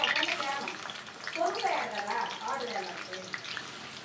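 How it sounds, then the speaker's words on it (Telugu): Onions dropped into well-heated oil for gongura chicken give a steady close hiss and crackle that runs throughout, with a voice talking over it. "ఆయిల్ అయితే బాగా వేడైందండి. ఇప్పుడు నేను దీంట్లో ఆనియన్స్ వేస్తున్నా."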